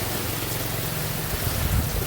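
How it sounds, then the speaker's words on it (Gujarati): Heavy rain pours down outside a shop during a downpour, making a dense, even roar of falling water that stays constant and close throughout, with no voices. "વરસાદ કેમ બાકી જો ધોમ પડે"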